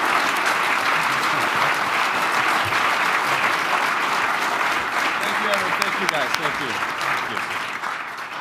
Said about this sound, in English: another round of applause to Victor.